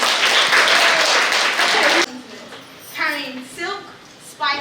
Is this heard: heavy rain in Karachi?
no